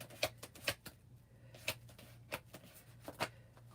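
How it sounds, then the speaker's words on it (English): Tarot cards shuffled by hand give off crisp, close riffling clicks in short irregular bursts, with quiet pauses between them over a faint low hum. "y'all see me shuffling on camera"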